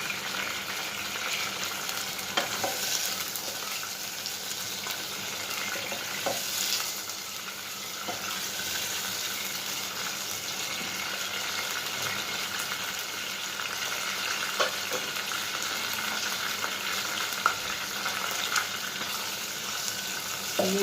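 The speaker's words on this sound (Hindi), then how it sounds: "अब मैं इसको अच्छे से फ्राई कर लूँगी पहले" Nihari meat frying and being stirred in a pan, a steady broadband sizzle with occasional scrape and clatter of the spoon throughout, close and continuous with no voices.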